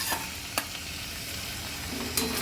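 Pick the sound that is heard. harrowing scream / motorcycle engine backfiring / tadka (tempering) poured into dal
tadka (tempering) poured into dal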